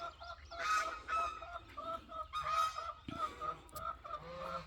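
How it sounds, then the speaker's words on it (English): Several geese honk loudly and repeatedly close by on a morning farmyard near a coop. Their harsh calls overlap in uneven bursts, with some clucking fowl mixed in. "And here come the geese."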